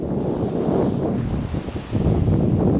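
Ocean waves wash onto a beach at Shell Harbour in Australia, a steady broad roar of surf mixed with heavy wind buffeting the microphone, with no voices.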